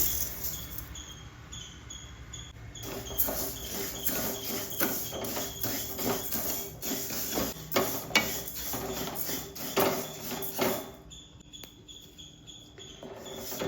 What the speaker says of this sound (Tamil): அடுத்ததாக சோம்பு 150 கிராம் சேர்க்குறேன்.